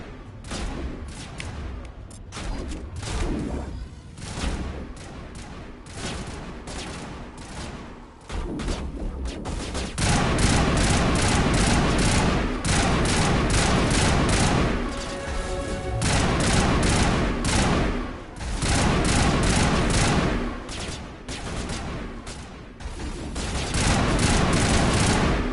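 Sustained gunfire from the video game Mass Effect: sparse shots and bursts early on, then a loud, dense barrage of rapid automatic fire with heavy booms that continues nearly unbroken to the end.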